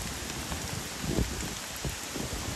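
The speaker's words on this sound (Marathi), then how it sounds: "इथे जोराचा पाऊस सुरू झाला आहे." Heavy rain pours down on dense forest along a trek, a continuous loud hiss of drops on leaves with a few nearer splashes and no voices.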